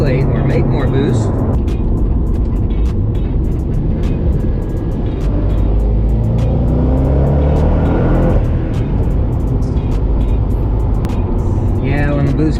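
A fully built twin-turbo 427 Corvette accelerates hard under boost, its engine roaring loud and close with rising pitch through the pull while people talk over it.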